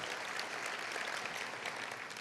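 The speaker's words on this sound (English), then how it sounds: "Give him a round of applause." An audience applauds at an environmental justice talk, giving a continuous wash of clapping that sounds distant and faint, with no speech over it.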